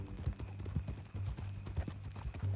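Horse hooves clip-clopping at a walk in the video game Red Dead Redemption 2, an even run of close, distinct hoof strikes with faint background ambience.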